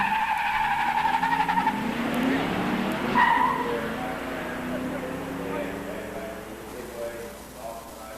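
An 1987 Buick Regal automatic and an 1987 Mustang GT 302 five-speed drag racing at a Musclecar Nationals pure stock event, engines roaring with tire squeal and shifting pitch, loud at first and easing off, under a voice talking.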